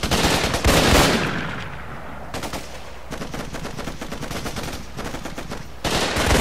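Rapid gunfire blasts through a Raven Squad Xbox 360 battle, with dense automatic bursts, a heavy opening salvo, a sustained rattling stretch and a loud return of firing at the end, close and loud.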